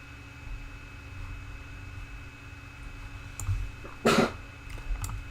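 A single sharp sneeze bursts out at a table during a card game, fairly close and loud against a quiet room hum, with a softer stir of movement just after.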